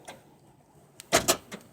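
Remote door lock on a Geo Metro releasing the rear hatch, a faint click followed by two sharp, close mechanical clunks and a softer final tap.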